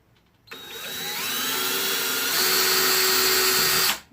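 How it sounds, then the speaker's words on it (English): A power drill whines for several seconds, its pitch climbing as it bores a pilot hole into PVC, then stops abruptly. "You just drill like a pilot hole here."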